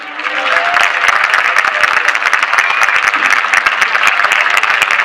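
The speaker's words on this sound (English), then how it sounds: "let's give a big round of applause to Wendy Weeks" An audience at a Starburst 2015 awards ceremony applauds a Citizen of the Year honoree, dense sustained clapping that swells in quickly and stays steady and loud throughout.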